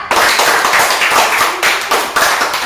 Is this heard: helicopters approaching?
no